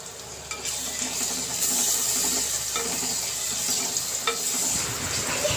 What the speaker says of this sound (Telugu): తర్వాత మూత పెట్టుకొని ఉల్లిపాయలని మరికొంతసేపు మగ్గనిద్దాం.